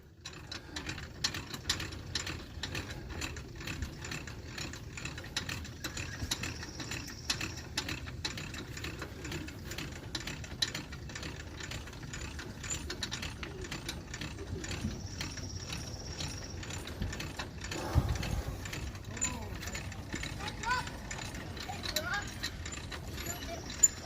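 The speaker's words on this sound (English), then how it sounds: "raise the jack" A jack on a weight distribution anti-sway trailer hitch is cranked up for a small camper trailer. A soft, steady ratcheting clicks in regular rhythm for over twenty seconds, faint and close, with no talk over it.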